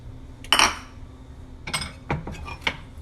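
Semolina (rava) is stirred in a pan for vegan gulab jamuns: a few scattered metallic scrapes and clinks of a spoon against the pan over a quiet background.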